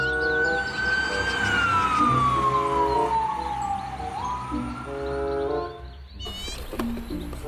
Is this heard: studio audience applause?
no